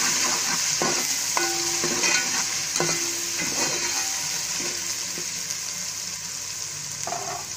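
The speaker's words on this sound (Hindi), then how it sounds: "अब मैं थोड़ी देर लहसुन को भून लूंगी।" Garlic paste fries in a pan for aloo palak sabzi, a loud continuous sizzle close up with repeated scraping and clattering strokes of a spoon stirring it, no voices.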